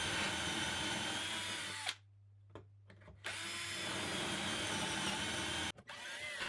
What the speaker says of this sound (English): This support piece, I'll drill 2 holes near the back on the underside.